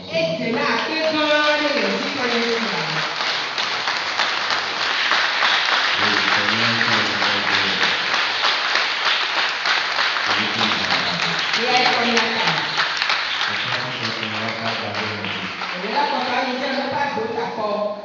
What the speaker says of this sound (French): Par ces acclamations, nous voulons te dire merci.